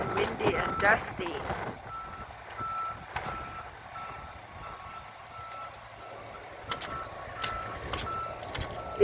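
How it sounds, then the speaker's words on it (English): A reversing cement mixer truck beeps at a regular pulse from a short distance on a windy, dusty construction site, with rumbling engine noise, heavy wind buffeting and some background voices. "It looks like it ran out of the cement, and so it's backing to move."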